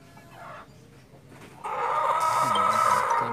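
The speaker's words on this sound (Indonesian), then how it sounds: "setiap hari bisa berisik membangunkan orang tidur" Chickens kept in a back shed let out a loud drawn-out crow after a quieter stretch, with clucking notes woven in, sounding near and filling the last half of the moment.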